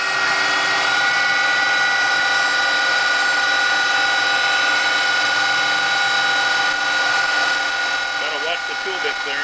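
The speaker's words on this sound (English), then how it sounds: "I'm going to go and do the drill now." A CNC lathe with an eight-position tool turret drills a workpiece, a steady loud machine hum with layered whine tones running throughout.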